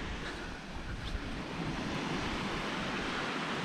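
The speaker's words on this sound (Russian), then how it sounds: "Шум прибоя." Sea surf washes onto an empty winter beach in Sudak, Crimea, a steady broad rush of waves on a relatively calm sea, mixed with wind noise against the microphone and no voices.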